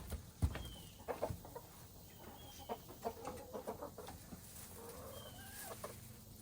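Olive Egger hens cluck softly in their coop at dusk, scattered faint clucks and low murmurs at an irregular pace in a quiet setting.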